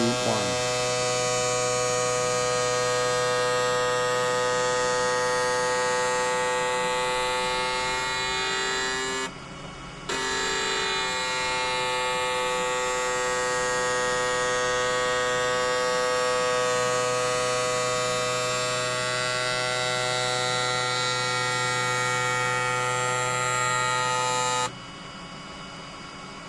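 Sparx ES100 electric skate sharpener, about eight years old, running a sharpening cycle: a steady loud motor whine with a strong hum, unbroken apart from a brief dip near the middle and a drop in level near the end.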